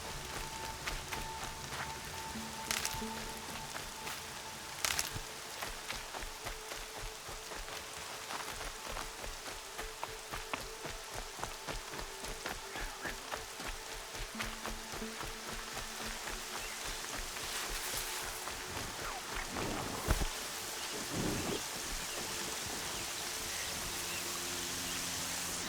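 Steady rain falls across an open landscape in Horizon Zero Dawn, a continuous hiss of drops with occasional louder splashes and faint game sounds underneath, no voices.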